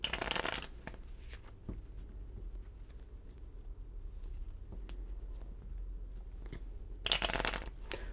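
Board game cards from At the Gates of Loyang being reshuffled as a discard pile, with crisp papery riffling bursts at the start and again near the end, and quieter handling noises in between.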